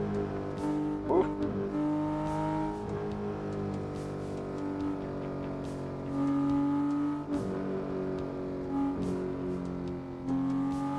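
Car engine in the racing game Assetto Corsa, a sustained tonal drone that rises and falls as gears change and revs climb, with a voice talking over it intermittently.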